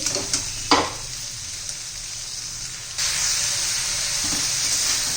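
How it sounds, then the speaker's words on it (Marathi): Okra frying in a pan, crackling with a steady sizzle and hiss, with a few scraping stirs of a spoon early on; close and fairly loud, with no talk. "अजून एका दोन मिनिटात तरी लागतील भेंडी शिजण्यासाठी"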